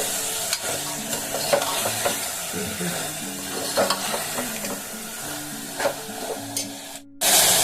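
Cloves, cardamom and a piece of cinnamon sizzle in oily masala for chana as they are stirred and fried, with scraping stirs over a continuous hiss. A brief silence comes near the end before the frying resumes.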